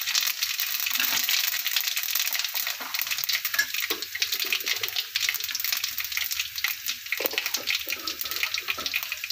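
Mustard and fennel seeds hit hot oil in a pan for chicken gravy, giving a steady, close sizzle with scattered crackles and pops throughout.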